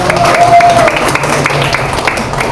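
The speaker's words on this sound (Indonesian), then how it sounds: "tepuk tangan semuanya" A group of people at a teaching session clap together, loud and close, with a brief voice or tone rising over the clapping early on before the clapping continues on its own.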